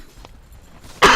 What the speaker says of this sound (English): I just need to cough for 1 sec.